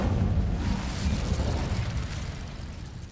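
Incendio fire spell cast in the Hogwarts Legacy video game, a loud continuous whooshing roar of flame with low rumbling body that sustains for about three seconds and tapers slightly at the end.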